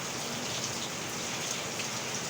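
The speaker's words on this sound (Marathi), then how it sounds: "पूर्ण पाऊस पडणार आहे" Steady rain pours down in a dense, even hiss, constant and fairly loud, with no other sounds standing out.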